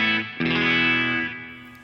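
Electric guitar through a Two notes GENOME on its default Cali Cleans clean preset: a strummed chord, then a second sustained chord that rings out with chorus shimmer and reverb, loud and alone.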